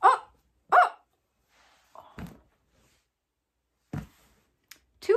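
Dog barking in short sharp bursts, a pair close together at the start, then scattered single barks and one at the end, loud and near with silence between them.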